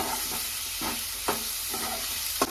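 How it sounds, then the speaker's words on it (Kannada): Onions and green chillies frying in a pan for egg kheema, a steady close sizzle with periodic scraping stir strokes, no voices. "ಇವಾಗ ಈರುಳ್ಳಿ ಮೆಣಸಿನಕಾಯಿ ಹಾಕೊಂಡ ನಂತರ ನೀಟಾಗಿ ಇದನ್ನ ನಾನು ಫ್ರೈ ಮಾಡ್ಕೊಳ್ತಾ ಇದ್ದೀನಿ."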